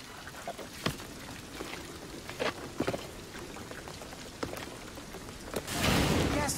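Rain falls in the Shadow of the Tomb Raider video game, a faint steady patter with scattered drips and splashes, swelling into a louder rush near the end.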